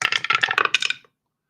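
Dice clatter and tumble in a quick rattling burst across a table during a tabletop wrestling game, a close, crisp sequence of small hard clicks that stops abruptly.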